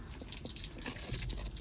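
A garden hose fills a water butt with a steady flow of water, a continuous close splashing and trickling with small drips throughout and no talk.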